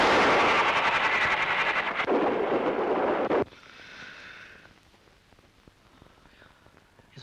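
A train runs loudly on the rails with a dense rumbling roar that cuts off abruptly, leaving quieter rattling and faint clatter behind.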